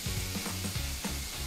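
A smash burger patty sizzles with onions pressed into it on a hot griddle at a restaurant in Dubai. The fry hiss is soft and steady, with quick spatula scrapes and taps over it.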